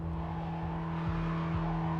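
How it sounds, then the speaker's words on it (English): Cyberpunk 2077 game car audio: a steady engine drone with low thumps recurring about every half second, loud and continuous for the whole stretch, with no clear tire screech standing out and no talking. "as soothing as those tire screeching sounds were, let's skip on"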